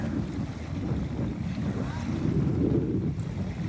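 Small waves slap against a 16'9 Expandacraft tri hull boat under way on choppy water, a steady low wash and rumble with heavy wind buffeting the microphone throughout.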